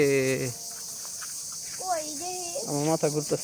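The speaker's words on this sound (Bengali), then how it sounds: "ঝিঝি পোকার ডাক, তাই না?" Crickets chirp in a steady, high, continuous drone outdoors, forming a constant backdrop while children talk loudly over it.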